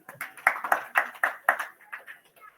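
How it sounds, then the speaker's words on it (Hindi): Children clap for a correct answer during a talk, giving a short burst of brisk, fairly even claps that lasts a couple of seconds, close by and moderately loud. "ताली बजा दो उनके लिए"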